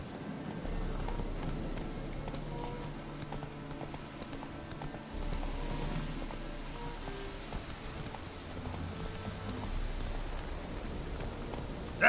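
Hooves clip-clop steadily as the horse Roach trots through falling rain in The Witcher 3, a moderate rhythmic beat over soft rain patter, with no talking.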